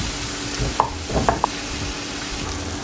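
A vegan omelette seasoned with black pepper and paprika cooks in a pan, giving a steady soft sizzle with a few faint clicks and light stirring noises, no voices.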